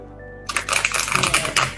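Tarot cards being shuffled during a zodiac reading, a quick burst of crisp riffling and flapping card sounds that starts abruptly after a quiet moment and rattles on close and loud.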